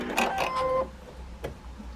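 Sewing machine stitching a jelly roll quilt seam to the edge of the fabric, a short close burst of fast whirring that stops after under a second and is followed by quieter handling noise.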